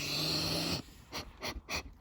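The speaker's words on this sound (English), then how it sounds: "Stick your nose in it. Let's have a sniff." Three short, breathy sniffs in quick succession, close to the mic, as a person smells the pages of an old book after a brief burst of rustling.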